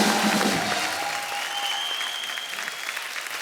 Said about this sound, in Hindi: एक बार जोरदार तालियां हो जाए चौबे साहब के लिए।